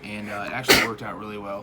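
A single sharp sneeze bursts out briefly in the middle of a man's steady speech, loud and close.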